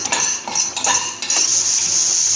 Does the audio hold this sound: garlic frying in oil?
yes